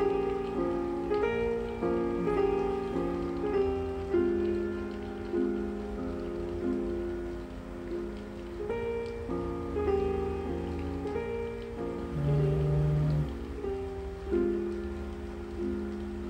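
Video game rain falls steadily outdoors, a soft, continuous patter heard beneath gentle, sustained tonal music, with no voices.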